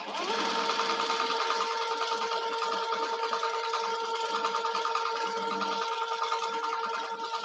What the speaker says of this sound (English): So now I'm going to top stitch my lining onto the fabric.